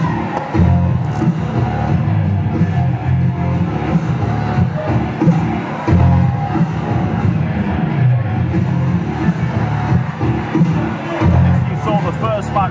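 A hot crowd at a UK wrestling show in Batley on a January night roars with a steady, dense hubbub of cheering, loud and continuous under a commentator's voice.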